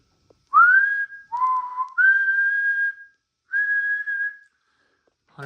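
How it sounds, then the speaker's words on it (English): A person whistles into the microphone of a B&W 6100 SSB radio transmitter, a short tune of four sustained notes, each clear and steady, with brief pauses between them, then a faint click. "100 watts on that whistle."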